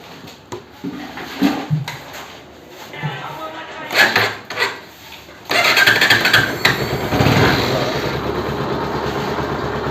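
A motorcycle engine cranks and catches after a few clicks and clunks, then settles into a steady, close idle during an engine flush.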